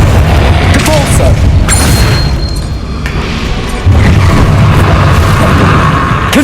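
Repulsor spell blasts in Hogwarts Legacy, heavy booming bursts with a sharp surge near the end, loud and close under a steady stream of spoken spell names.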